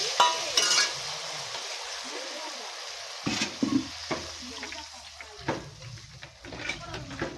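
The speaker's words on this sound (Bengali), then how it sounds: "কষানো হয়ে গেছে এবার এতে জল দিয়ে দিচ্ছি" Water hits a hot pan of spiced potato curry that has been fried down, setting off a broad hissing sizzle that slowly settles, with scraping stirs and light clatter close by.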